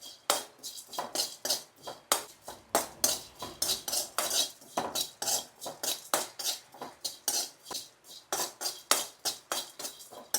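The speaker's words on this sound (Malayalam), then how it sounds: "നമുക്ക് ഈ ചെമ്മീൻ ഇനി നല്ലപോലെ ഒന്ന് മൂപ്പിച്ചെടുക്കാം." Prawns roast in a pan while a metal spoon stirs them, a steady run of close, sharp scraping and clinking strokes in quick rhythm with no talking.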